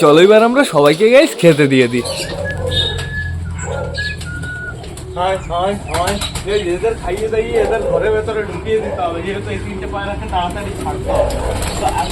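Soft, repeated cooing of pigeons sounds close by, mixed with a person talking and some background clatter throughout.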